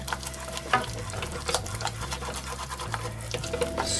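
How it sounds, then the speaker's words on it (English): Flour cooking in butter in a pan for bechamel sauce: steady close sizzle with repeated scraping stirs and a low background hum throughout, no talk. "Remember when you're making bechamel sauce to cook that flour out before you start adding any other liquids."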